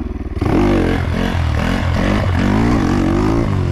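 A motorcycle engine idles with a loping putter, then revs hard and loud with the pitch rising and dipping as it shifts into second gear during a wheelie attempt, close to the microphone.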